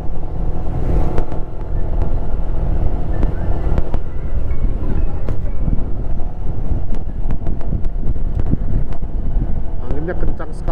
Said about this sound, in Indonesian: Anginnya kencang sekali.